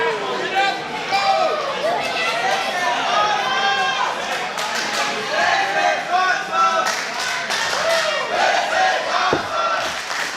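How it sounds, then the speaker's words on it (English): A crowd at a wrestling event roars and chants through a main-event match, a loud dense swell of voices with bursts of yelling and scattered clapping that carries on throughout. "The crowd heavily enjoying themselves this match."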